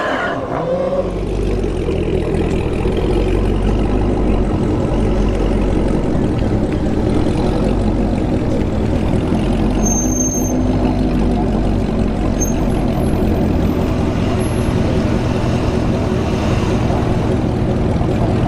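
A Camaro ZL1 and a Dodge Hellcat Redeye launch down a drag strip, a loud sustained roar of engines at full throttle heard from trackside, steady and dense throughout without voices.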